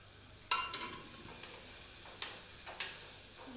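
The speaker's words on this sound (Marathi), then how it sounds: "हे चिरलेले कंटोले मी आत घालत आहे" Chopped spiny gourd drops into a sizzling pan, giving a steady hiss of frying with a few sharp clicks of a spatula at the start and scattered through, close and quiet.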